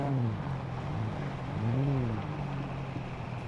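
A vehicle engine drives in the survival video game SCUM with a steady, moderately quiet drone. Its low tone rises and falls slightly as the vehicle moves, and the hum continues throughout with no talking over it.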